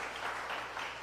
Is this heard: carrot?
no